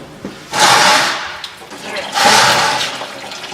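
Coolant drains from the removed water pump of a 1975 Ford tow truck and splashes onto the shop floor, heard as two loud gushing, splattering bursts of liquid with a short lull between them.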